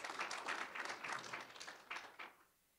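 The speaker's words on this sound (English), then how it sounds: "we'll give her a round of applause" Scattered, light applause rises from a small audience at a global health lecture, with individual claps distinct, faint and distant, before it fades out.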